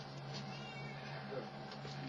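A cat being fed outdoors meows faintly, buried in steady background noise and hum, with no clear separate calls standing out.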